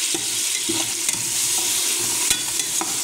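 Tomatoes fry in a pan, with onions and garlic, while squid and crab in coconut milk are being cooked, a loud, even sizzle broken by frequent stirring scrapes and soft knocks, close up and without speech.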